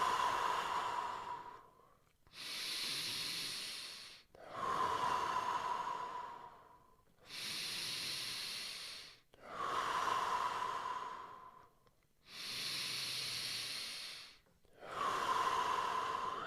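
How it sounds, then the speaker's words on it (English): Seven deep, slow breaths in a breathing exercise, each a long close airy inhale or exhale of about two seconds separated by short pauses, steady and unhurried with no talking. "5 deep breaths."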